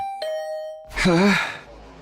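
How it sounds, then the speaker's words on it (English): A two-tone electronic chime rings once in The Hundred Line, a sustained ding then a lower dong, followed by a voice sighing or groaning with a wavering pitch. "Ding dong."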